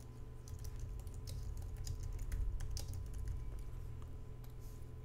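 Quick, light taps on a computer keyboard patter continuously at close range, a run of steady typing over a low background hum.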